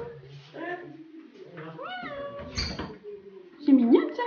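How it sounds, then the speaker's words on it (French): A small cat meows a few times indoors, its cries mixed in with close, chatty talk from a woman, with a louder meow near the end. "C'est mon copain, le petit chat."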